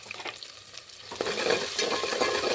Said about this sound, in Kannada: ಒಗ್ಗರಣೆಲಿ ಚೆನ್ನಾಗಿ ಬೇಯಲಿ ಇದು.